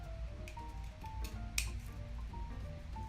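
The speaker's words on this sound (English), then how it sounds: "you can cut from that corner up to the middle" Scissors snip through a paper doily with a few faint, crisp cuts and one sharper snip, set against a low background hum and no speech.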